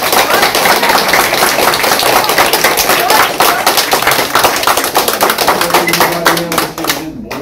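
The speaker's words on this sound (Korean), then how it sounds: "열렬한 박수로 응원해 주세요" Audience applause at a political rally, a dense, loud, continuous wash of clapping that fills the whole stretch and thins slightly near the end, with a voice faintly under it.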